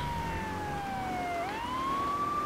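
Police car siren in the Grand Theft Auto 3 video game, a single wailing tone that sweeps slowly down and then back up, loud and close over a steady low engine rumble, with no talking.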